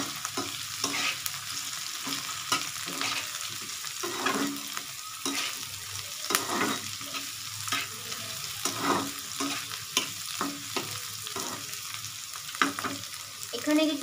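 Ghugni seasoned with Maggi masala fries in a pan while being stirred: a close, continuous sizzle broken by repeated scraping stir strokes, with no voices.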